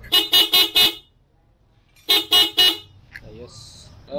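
Car horn honking in two bursts of four short, loud toots separated by a pause, followed by a brief noisy stretch during a vehicle preparation and maintenance session.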